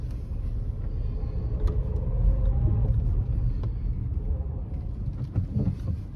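A car's engine idles in reverse gear during a driving lesson, giving a steady, low, close rumble with no talking over it.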